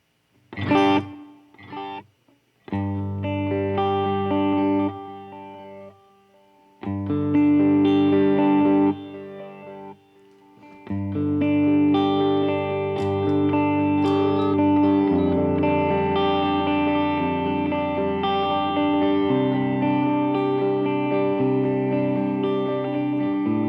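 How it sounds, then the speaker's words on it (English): Electric guitar played through a digital guitar modeler with a quarter-note delay, distorted chords and notes ringing out with repeating echoes, played alone in short phrases separated by gaps before a longer sustained passage. "Now I can jump ahead and do quarter notes on this switch for this particular delay."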